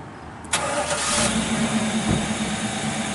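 A 1967 Chevrolet Camaro SS convertible engine cranks briefly and fires up, then settles into a steady, close idle with a low rumble.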